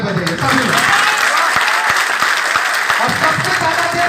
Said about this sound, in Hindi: बीइंग हेल्पर फाउंडेशन के लोगों के लिए आप लोग ताली बजाइए सभी लोग